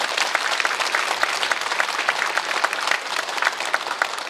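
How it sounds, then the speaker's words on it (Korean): Congregation at a Korean church prayer meeting claps steadily and loudly together, a full, even burst of applause from the whole room throughout. "우리 모두 다 주님께 영광의 박수 드리겠습니다"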